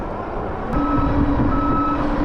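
Truck reversing in road traffic: a steady two-tone reversing beep sounds continuously at moderate distance over a broad rumble of passing traffic, with no talking.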